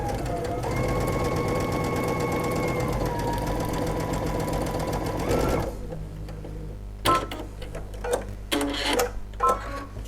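A domestic sewing machine runs steadily, stitching jelly roll quilt strips together in a close, continuous whir for several seconds, then stops, leaving a few clicks and handling noises in a quiet room.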